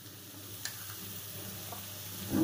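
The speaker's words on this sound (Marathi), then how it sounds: "आणि आता सगळ्यात शेवटी तूप घालायचंय वरून थोडं" Ghee spooned over pineapple sheera in a hot pan gives a soft, steady sizzle with a few faint ticks and stirring scrapes, quiet and close, growing slightly louder at the end.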